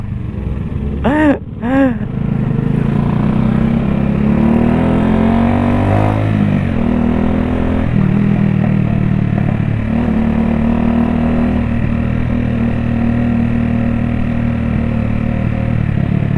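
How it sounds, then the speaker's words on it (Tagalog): Kymco Kargador cafe racer motorcycle engine running, a loud, steady close-up drone with a couple of brief revs near the start, then a sustained throttle that shifts slightly in pitch. "Ang lakas ng motor na to."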